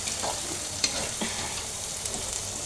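Spices sauté in a hot pan with a continuous close sizzle, punctuated by a few sharp clicks and scrapes from a stirring spatula.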